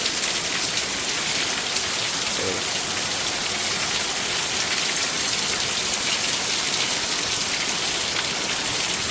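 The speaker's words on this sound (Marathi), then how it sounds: "बेकार पाऊस बेकार पाऊस" Heavy rain pours steadily throughout, a dense, continuous hiss of drops drumming on surfaces, close and loud with no pauses.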